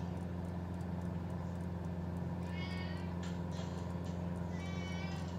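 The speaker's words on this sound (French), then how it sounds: "j'ai oublié de dire que j'avais un chat aussi" A cat meows inside a small airplane cockpit during a flight from Toussus to Troyes, giving a few thin, plaintive cries over a constant loud engine drone and propeller hum.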